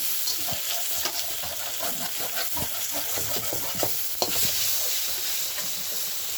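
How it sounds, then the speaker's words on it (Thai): Dry stir-frying of food with soy sauce in a pan, a steady sizzle broken by repeated scraping and clacking strokes of the spatula, close and continuous. "อันนี้ผัดให้มันนานๆหน่อยจ้ะผัดแห้งๆจ้ะ"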